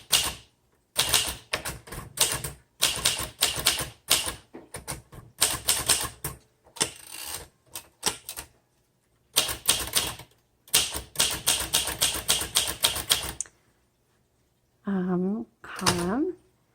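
Typing on a 1973 Royal Custom III manual typewriter: bursts of sharp, close key strikes in quick irregular runs, separated by short pauses, with a bell ding and carriage return near the end.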